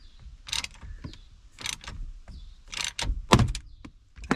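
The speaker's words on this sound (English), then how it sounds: "Snapped it right off, just as Ford intended." A security bolt on a 2010 Ford Escape ignition switch is wrenched until its head snaps off, with a series of sharp metallic clicks and ratchet-like bursts close by and a louder crack near the end.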